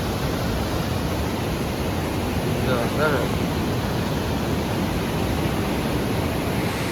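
Floodwater rushes steadily over a check dam during extremely heavy rains, a dense continuous roar that stays even throughout with no pauses.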